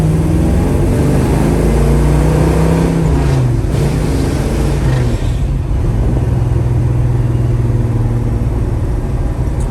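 A 1967 Chevrolet Chevelle's engine idles loud and steady with a deep low rumble, rising briefly in a rev around the middle before settling back into a continuous idle.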